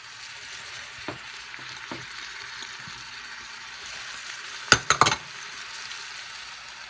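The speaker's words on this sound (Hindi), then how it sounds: "गार्लिक है तो गार्लिक डाल देते हैं" Garlic and onions fry in oil for a restaurant-style Indian base gravy, a steady soft sizzle throughout with a few sharp spoon clicks against the pan near the end.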